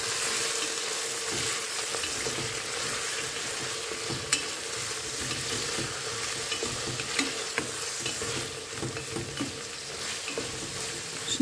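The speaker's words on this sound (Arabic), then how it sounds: "توا حليت على الغاز باش نقلي الدجاج شويه بالماء." Chicken fries with a little water in a pan on a gas stove, giving a loud, continuous close sizzle with occasional faint ticks and scrapes throughout.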